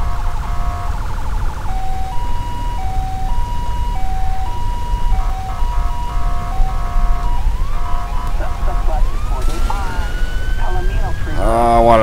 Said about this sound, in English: I also upgraded my sirens.